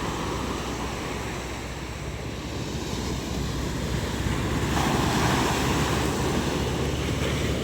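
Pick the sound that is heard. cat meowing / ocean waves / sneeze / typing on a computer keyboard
ocean waves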